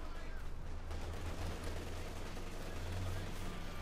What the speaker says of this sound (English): Maximally caught by numerous machine guns, heavy and light